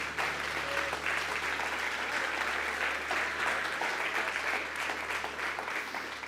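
A church congregation applauds for several seconds, an even wash of many hands clapping at moderate distance over a low steady hum from the hall's sound system.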